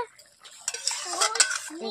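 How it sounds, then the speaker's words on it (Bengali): A metal utensil scrapes and clinks against a wok as cooked fish is scooped out, a short burst of scraping and tapping. "কড়াই থেকে নামিয়ে নিচ্ছি।"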